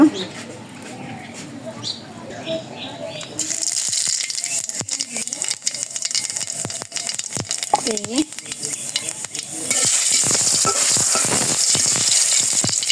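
Oil heats in a karai as someone talks over light clatter, then a sizzle rises and stays under scraping and stirring clicks, growing louder and fuller toward the end. Birds chirp faintly in the background.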